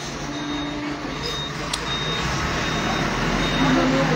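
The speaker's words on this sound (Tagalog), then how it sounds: "Meron pang truck dito, ang ingay din. Deliver ng tubig." Rumbling water delivery truck engine idling nearby with faint intermittent beeps, a steady low vehicle drone throughout.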